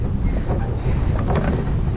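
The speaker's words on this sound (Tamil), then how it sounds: "காற்றுக்கு அந்த பக்கம் தள்ளுது." Wind buffets a boat ride on Jhamunamathur Lake, a steady close rumbling roar of wind over the microphone with faint water wash beneath, continuous for the whole stretch.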